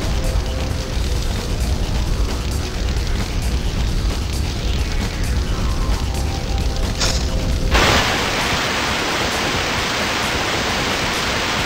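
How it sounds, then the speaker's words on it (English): Fire hydrant cap yanked off in the Spider-Man 2 video game, a sudden burst into a loud, steady gush of spraying water that fills the last few seconds after a rumbling, noisy stretch. "I could just yank the cap off that hydrant,"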